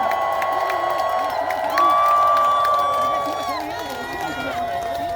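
An outdoor festival concert crowd cheers and claps for a fan club, a broad wash of applause and shouts under a singer's amplified voice and a sustained tone, swelling in the middle then easing.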